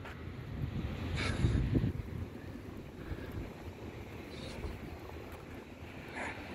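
Sea breeze at Ouchheuteal Beach in Sihanoukville, Cambodia, buffets the microphone in steady gusts with a soft background wash of surf, swelling briefly near the start; no talking.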